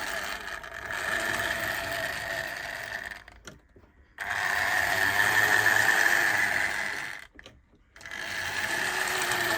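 Triang Princess Elizabeth model locomotive running along a test track, a loud buzzing whir of its motor and gears that fades out briefly twice as it stops and reverses direction, with no talk.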